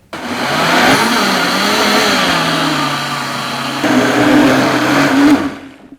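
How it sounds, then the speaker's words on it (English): A loud blender whirs steadily while blending soup, its motor pitch shifting as the speed rises from low, then winds down at the end. "So I'm going to turn my blender onto low and then gradually increase the speed until the soup is smooth"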